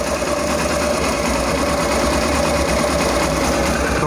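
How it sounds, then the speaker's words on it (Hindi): A Hero motorcycle engine runs steadily with a fast, constant kit-kit ticking rattle riding over its hum, close and fairly loud, with no talking. "किट किट किट किट की आवाज़ सुनाई दी"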